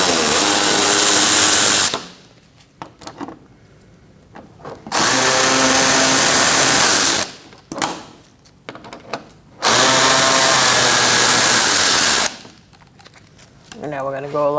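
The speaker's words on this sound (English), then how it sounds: "Take your 10mm and remove these 3 bolts." A power tool spins out 10mm bolts under a 2020 Toyota Corolla while the front inner fender liner is removed, three loud whirring bursts of about two to three seconds each, separated by quiet gaps.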